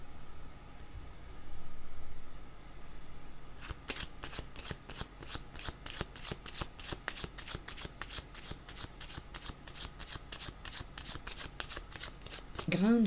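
Tarot cards being shuffled for a card reading, a long run of quick crisp riffling snaps after a quiet start, close and steady, with a faint sweep at the end.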